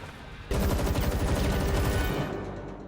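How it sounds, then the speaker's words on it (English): Sustained burst of gunfire from a shootout in the TV series Teen Wolf, season 6 episode 4, breaking in abruptly after a quiet moment and continuing as dense, rapid automatic shots that fade slightly toward the end. "Look at him shooting at them."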